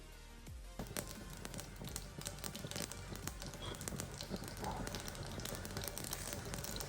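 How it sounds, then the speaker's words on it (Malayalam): Mustard seeds pop and crackle in hot coconut oil, a quiet, steady patter of sharp little ticks and snaps over a soft hiss. "കടുക് പൊട്ടി"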